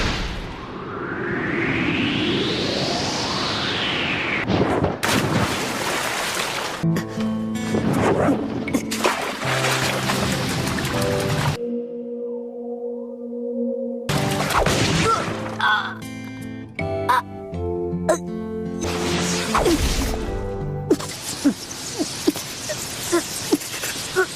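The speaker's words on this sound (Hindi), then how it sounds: "Fire style Phoenix flower jutsu." An anime fire technique, Sasuke's Phoenix Flower Jutsu in a Naruto versus Sasuke fight, blasts out as a rising whooshing sweep, then crackling bursts and ringing tonal hits, a short hollow tonal lull, and more loud dense impacts.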